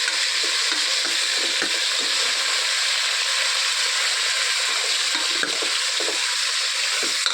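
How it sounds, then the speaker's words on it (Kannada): Ingredients fry in hot oil for a drumstick sambar, giving a loud, continuous sizzle with occasional stirring scrapes and no one speaking. "ಈ ಸ್ವಲ್ಪ ಚೆನ್ನಾಗಿ ಎಣ್ಣೆಲಿ ಹುರ್ಕೊಳ್ಳೋಣ."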